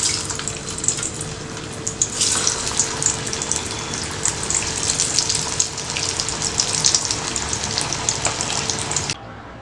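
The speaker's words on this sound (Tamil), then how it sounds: "இதே போல் இருக்கிற வடை எல்லாம் வந்து நம்ம பொரிச்சு எடுத்துக்கலாம்." Black chana vada made from black chickpeas sizzle in hot oil, a steady dense crackling hiss that carries on evenly for about nine seconds before cutting off abruptly.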